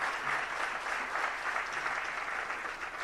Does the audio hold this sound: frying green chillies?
no